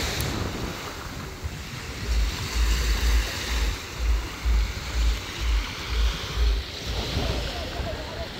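Surf washing onto a clean beach of clear water at Sidi Bou Said, Tunisia, with rhythmic low swells breaking every second or so under steady wind noise buffeting the microphone.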